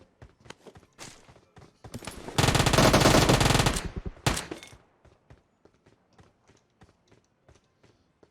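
Gunfire in the mobile battle-royale game PUBG Mobile: scattered sharp shots, then a loud sustained burst of automatic fire lasting over a second and a short second burst, followed by further isolated distant shots and clicks.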